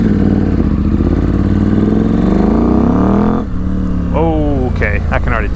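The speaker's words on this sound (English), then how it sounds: "I can already tell a low end throttle response is better." KTM 790 motorcycle engine fitted with a Rottweiler rally intake, revving and accelerating up through the range with rising pitch, then dropping and climbing again in sharp pulls; loud and close throughout.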